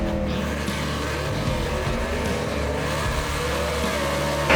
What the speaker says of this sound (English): Alfred Adams lets the clutch out a little too soon and rolls the beam, and red is dead in any type of drag racing.